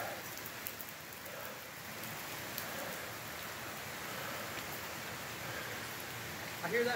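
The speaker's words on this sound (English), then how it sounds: "I hear that falls down there, don't you?" A waterfall pours off a cliff into Rock Creek in Laurel County, Kentucky, a faint, steady rain-like hiss that carries on evenly throughout, with a brief louder rustle right at the end.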